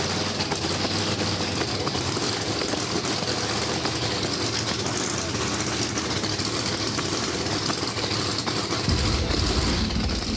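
A blower-equipped no-prep drag car engine running, a dense loud continuous rumble with deep low-end roar that grows heavier near the end.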